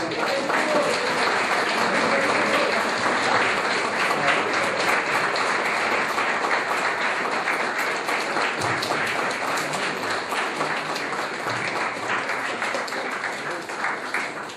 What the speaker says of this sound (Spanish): les reciban con un fuerte aplauso a los hermanos que nos visitan.